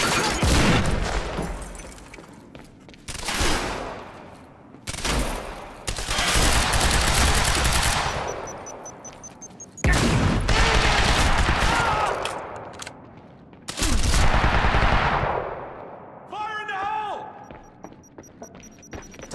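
Repeated bursts of machine gun fire in the video game Quantum Break, several long sustained volleys separated by short pauses, loud and close, with brief metallic clicks near the end.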